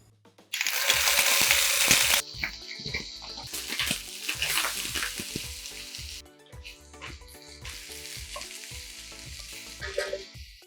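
Mustard seeds crackle and pop in hot oil for an egg curry, a loud, close, steady sizzle with scattered sharp pops running throughout, easing slightly after the first couple of seconds.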